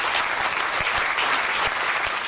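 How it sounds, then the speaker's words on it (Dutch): Applause for police officers at a municipal New Year's reception in Mook en Middelaar fills the room as a dense, steady wash of clapping, carried evenly across the whole stretch. "graag een applaus voor onze politiemensen"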